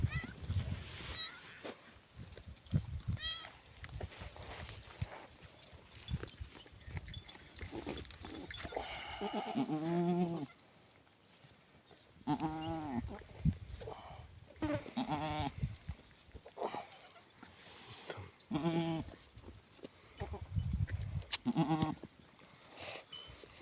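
Pregnant goats bleat repeatedly on a farm in hot weather, several loud calls rising in bursts through the clip amid background rustle and occasional voices.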